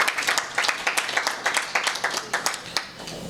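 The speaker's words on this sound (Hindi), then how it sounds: "हमारा तालियां बजाते हुए हम परमेश्वर का धन्यवाद करेंगे।" A church congregation claps hands together in a steady, fast rhythm, crisp and moderately loud, without talk over it.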